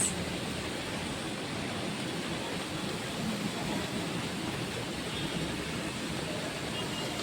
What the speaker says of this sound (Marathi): आता तुम्हाला पाऊस दाखवते आमच्या कॉलेजचा पाऊस